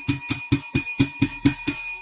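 A small bell is struck eight times in an even, brisk rhythm as a tribute to NFL receiver Julio Jones. Each ring is loud, close and bright with a lingering ring, and no one speaks.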